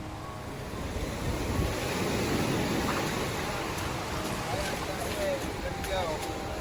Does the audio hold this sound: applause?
no